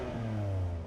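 A BMW M4 engine revs in a brief, loud burst, its tone climbing and then holding for under a second.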